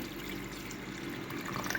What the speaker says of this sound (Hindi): ये इसमें मैं 1 गिलास और पानी डालूँगी।